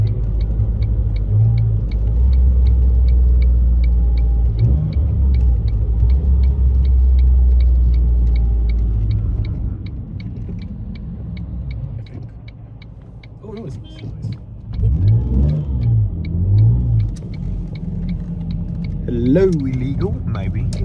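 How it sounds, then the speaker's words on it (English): Ford Mondeo ST220 engine driven at night, low rumbling drone rising and falling with revs and throttle blips on downshifts, close inside the cabin, with people talking over it. "sounds quite mean, especially when you blip the downshifts"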